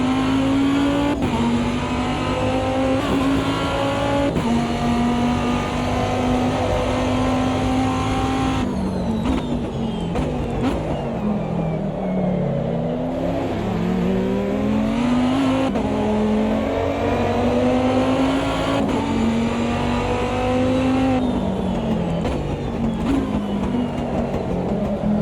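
Race cars in the Automobilista 2 racing game, including a Viper GTS-R in a 2005 ALMS season, make loud, continuous engine drones. Revs rise and fall through gear changes as class leaders close in behind.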